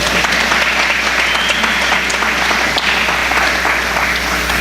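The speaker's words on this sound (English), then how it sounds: "clap for that" A crowd applauding loudly and steadily at a political event after a congressman is introduced, dense continuous clapping with no break.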